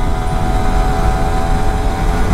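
A Yamaha R15 V3 motorcycle engine gives a steady, loud drone with a low rumble and a faint whine, running evenly throughout with no voices.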